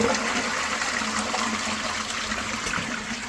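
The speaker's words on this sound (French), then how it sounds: "Et puis vous tirez la chasse." A toilet flushes with a steady, close rush of water swirling and draining through the bowl, continuing throughout.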